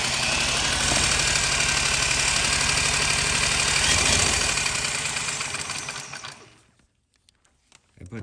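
Honda UT3 quarter midget engine running after start-up, a loud, steady, buzzing roar with rapid firing pulses for about six seconds before cutting out abruptly into near silence.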